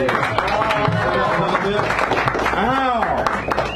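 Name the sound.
audience applause at poetry open mic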